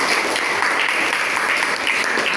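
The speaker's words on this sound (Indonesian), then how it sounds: "Tepuk tangannya mana?" A classroom audience of students claps together in a dense, even wash of applause, loud and unbroken from start to finish with no voices standing out.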